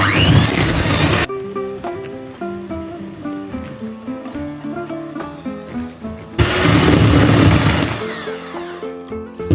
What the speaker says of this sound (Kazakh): Ыдысымызға творожный сыр және қантымызды салдық және Жақсылап миксерлейміз 1 минуттай.